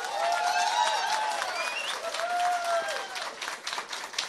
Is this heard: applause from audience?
yes